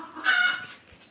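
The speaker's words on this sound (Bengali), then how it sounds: "মুরগির বাচ্চাগুলো কুলকুল কুলকুল করতেছে" Chicks in a room built for keeping chickens give a short burst of bright, rising chirps that swell and then fade over about a second, close and fairly quiet.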